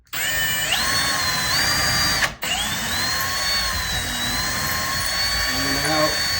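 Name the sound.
power drill drilling holes in cabinet door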